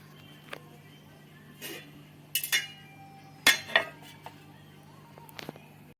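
A lid is set onto a cooking pot of masoor lentils with prawn, pumpkin and potato in a traditional kitchen, giving a few quiet, sharp metallic clinks and clatters separated by near silence.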